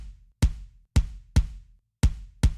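A dry, unprocessed kick drum with no EQ hits five times in an uneven pattern, each thump punchy and close with a short boomy low tail and a brief click at the attack, with silence between hits.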